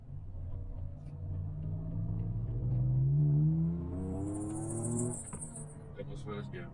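A Toyota FJ Cruiser revs up hard in first gear in manual mode, its engine note climbing steadily over about four seconds before easing back, with a rumbling idle and a faint high hiss around it.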